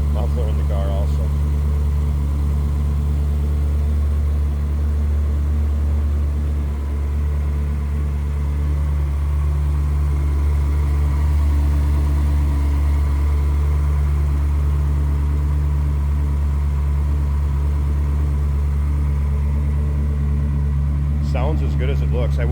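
A 2004 Ferrari 360 Spider F1 engine idles with a steady, deep low rumble through the muffler, holding an even tone from start to finish.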